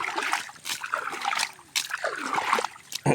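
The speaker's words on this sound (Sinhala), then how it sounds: "මෙහෙම මේක වතුර දානවා" Water is poured out in uneven splashes and trickles that stop and start, heard close up with no talking.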